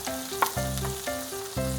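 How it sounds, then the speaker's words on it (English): An egg and vegetable mixture sizzles and crackles steadily in a frying pan of melted butter for Korean street toast, with a few clinks and scrapes, likely utensils against cookware, near and fairly loud. "Pour in your egg and veggie mixture"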